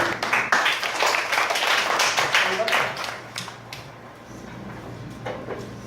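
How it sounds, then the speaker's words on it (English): Children in a primary school classroom clap together briefly, a burst of dense clapping that fades after a few seconds into quieter room noise and chatter. "Let's clap for him."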